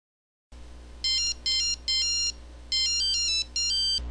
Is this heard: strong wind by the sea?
no